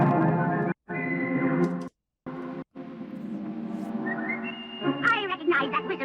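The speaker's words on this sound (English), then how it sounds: "I recognize that whistle of yours" A cartoon character whistles a tune with bright, sliding notes and a reverberant, echoing tone, broken by brief silent gaps, with a warbling trill near the end.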